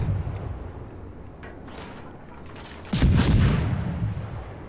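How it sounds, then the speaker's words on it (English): Destroyer guns fire in a naval warship video game: a sustained, rumbling burst of rapid booms swells partway through over a steady background roar of battle noise, with no voices. "But now I want the kill, so I keep firing,"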